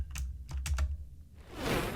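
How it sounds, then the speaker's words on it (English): A computer keyboard clatters with a few quick keystrokes close to the microphone, then a brief softer rustle of noise, no talking during the typing. "So I'm going to hit Alt Enter on the keyboard and say import static method."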